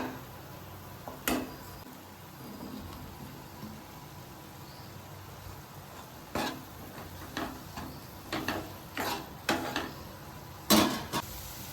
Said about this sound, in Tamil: உப்பு விட்டு நல்லா கிண்டி விட்டுக்கலாம்.